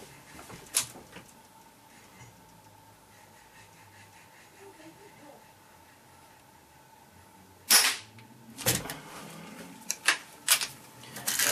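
A rifle fires on an outdoor range while shooting a group: one sharp crack early, a long quiet stretch of low background hiss, then a quick cluster of four or five loud reports near the end.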